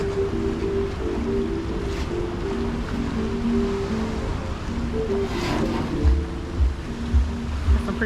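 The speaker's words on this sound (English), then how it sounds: "There's some pretty crazy waves crashing in over there." Heavy ocean waves crash near a Mariner of the Seas cruise ship in a steady, roaring wash, with deeper surges swelling toward the end and no talk.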